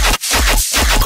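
A rising, gun-like synth effect from a modern dubstep track: loud, dense bursts pulsing in quick succession, with brief gaps between the heavy hits over roughly a second.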